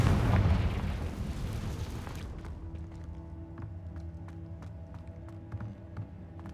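A Confringo blasting spell goes off in the Hogwarts Legacy video game: a loud, close burst of explosive rumble that fades over two seconds into a quieter magical hum with scattered crackling and sparkling ticks.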